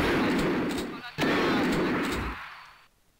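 Shotgun blasts in the video game Duke3D Platoon TC, two heavy booming shots in close succession, loud and near, each trailing off into a fading roar.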